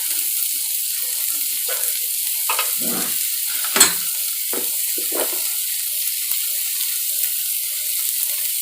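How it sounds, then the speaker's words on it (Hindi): Spices for egg bhujiya fry in a pan with a steady, loud sizzling hiss, broken by intermittent stirring scrapes and one sharp clink of a utensil, with no talking. "और आधा चम्मच गरम मसाला डाल के इसे भून लेंगे 1 से 2 मिनट तक"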